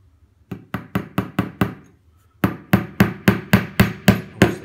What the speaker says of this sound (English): Obviously, if you are using a hammer, please let an adult do this.